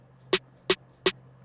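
A sampled snare drum called Bean strikes three times in an even rhythm, each hit short, crisp and sharp against quiet background.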